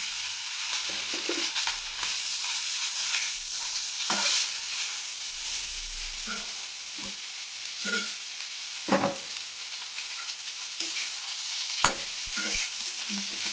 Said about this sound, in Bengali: এখন ভালো করে নাড়িয়ে দিয়ে দিচ্ছি